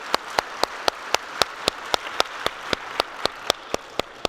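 A conference audience at a tech event gives a round of applause, heard here as a steady, evenly spaced series of sharp claps, fairly close and distinct, with no talking over it.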